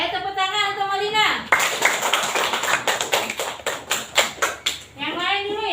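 A classroom of young students claps for a classmate, a burst of scattered, uneven hand claps between stretches of a teacher's voice talking before and after.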